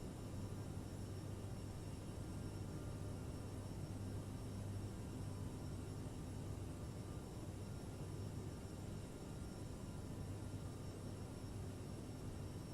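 A Bombardier CRJ900 jet on takeoff from Gothenburg in Microsoft Flight Simulator gives off a faint, steady engine roar and broadband hiss that holds evenly throughout with no voices.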